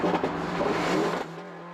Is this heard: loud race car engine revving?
yes